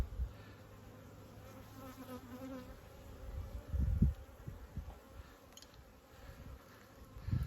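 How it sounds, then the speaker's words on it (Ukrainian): Honeybees released from a hive after chewing through to free their queen, giving a soft, steady buzzing drone throughout with a few louder swells near the middle and end, close by and with no talking. "Все, відпускаємо бджіл."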